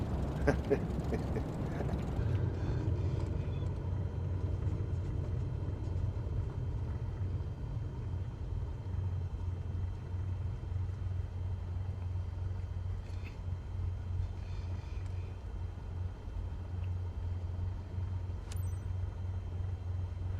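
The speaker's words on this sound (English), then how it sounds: "Apply the brakes and stop the plane." In Microsoft Flight Simulator 2024, a plane brakes and taxis after landing, giving a steady low engine rumble with a louder, noisier burst at the start, then a constant hum with faint mechanical clicks throughout.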